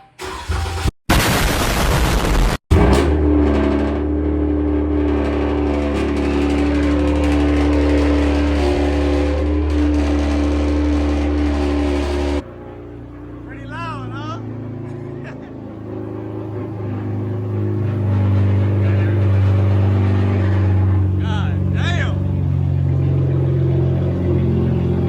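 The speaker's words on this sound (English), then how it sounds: "once we get everything installed and we start the car" A Dodge Charger V6 with freshly installed spark plugs and upgraded coil packs cranks and fires up, then idles loudly with a deep steady rumble before settling lower and rising again in a rev; brief bursts of noise come first.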